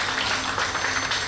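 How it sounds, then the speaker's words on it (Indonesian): An audience at a Christmas gathering of the PTRS board claps in dense, steady applause that fills the whole short moment at moderate loudness, with no talking over it. "tepuk tangan yang luar biasa untuk Hengki Helena ini ya."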